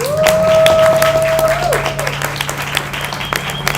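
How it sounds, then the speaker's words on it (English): An audience at a panel discussion breaks into applause, loud at first and then thinning into scattered claps as a sustained tone fades out. "can we give the panelists like a round of applause?"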